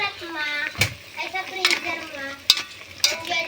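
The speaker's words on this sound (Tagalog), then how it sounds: "Atin pong haluin. Saan yung sandok na malaki?" Sisig being stirred in a pan with a large ladle, with a few sharp scraping clanks against a continuous sizzle while people talk over it.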